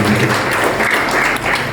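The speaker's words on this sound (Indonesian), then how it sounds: "Kita berikan tepuk tangan yang luar biasa buat Tuhan." A church congregation applauds loudly during a Sunday service, a thick, close wall of clapping hands that fills the room steadily with no break.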